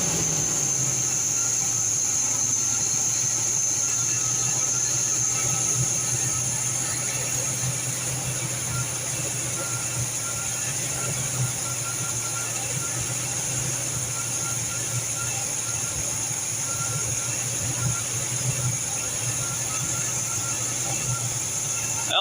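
An Oldsmobile Cutlass engine runs steadily at idle for over twenty seconds, a loud, constant low rumble with a whining hum on top and no notable changes in pace.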